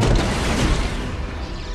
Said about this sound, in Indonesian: Your wingsuit's gonna explode!